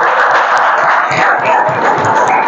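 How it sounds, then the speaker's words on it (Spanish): A church congregation applauds together in a steady wash of clapping and crowd noise, loud and continuous throughout with no pause. "Démosle un aplauso al Señor, iglesia, por favor."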